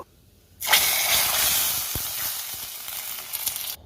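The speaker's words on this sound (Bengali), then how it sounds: "ফোড়নটা ভাজা হয়ে গেছে, এবার এটাকে আমি ডালের মধ্যে ঢেলে দেব।" A quiet moment, then a sudden loud sizzling burst as a hot fried spice tempering is poured into bitter gourd lentils, hissing strongly and slowly fading with small crackles.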